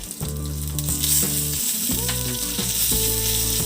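Mustard seeds, asafoetida, dry red chillies and curry leaves crackle and sizzle loudly in hot oil for a tamarind-shoot dal tempering, a dense close frying hiss with sharp pops, no voices.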